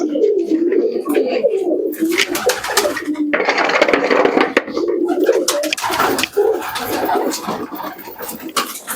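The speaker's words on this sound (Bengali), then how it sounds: "এই পায়রাটা উড়ানো ছিল আমার এটা গোল্ডেন" Pigeons, including a golden pigeon, coo repeatedly at close range, soft throaty calls overlapping continuously with faint rustling in the background.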